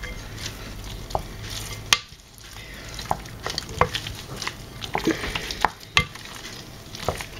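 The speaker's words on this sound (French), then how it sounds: "on va venir donc incorporer les œufs un à un. C'est parti. Et on mélange bien surtout." Spoon stirring eggs one at a time into choux pastry dough in a dish, giving a wet, sticky scraping with scattered sharp clacks of the spoon against the dish, close and fairly quiet, with no talking.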